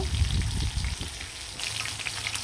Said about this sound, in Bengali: এখানে কিন্তু মাংসগুলা ভেজে রান্না করে ফেলবো